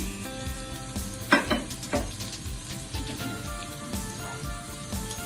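Paprika powder and pasta added to a sizzling pan for cheese pasta, with steady frying crackle, a couple of louder thumps and scrapes as ingredients drop in and get stirred.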